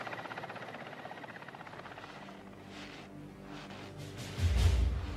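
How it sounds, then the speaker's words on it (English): A helicopter's rotor thumps and engine whine fill the air, steady at first and then swelling louder as it passes nearer. "The helicopter races back to refuel."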